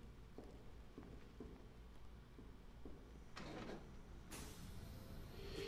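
A big vault door in Batman Arkham Knight slides shut: a low rumble builds, then two loud rushing, grinding surges near the end, heard alone.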